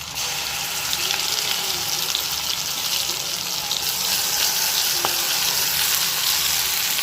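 Ground masala paste sizzling and frying in hot butter in a pan while cooking paneer butter masala, a steady loud crackling hiss throughout with a brief stir or clink partway through.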